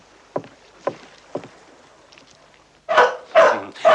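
A dog aboard a wooden sailing ship barks three times in short, spaced yelps, followed by three louder, fuller barks close by, with quiet background between them.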